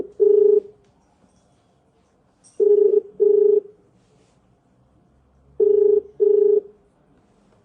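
A telephone rings unanswered, its tone sounding first as a single short burst and then in two spaced double rings separated by quiet gaps, clear and close with nothing else heard.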